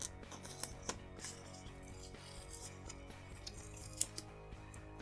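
Scissors trimming planner paper, a few soft snips and crisp cuts heard close and quiet over faint background music.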